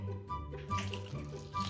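Warm water is poured into a mixing bowl for homemade playdough, a short gurgling splash with a low hum of room noise underneath and no one talking.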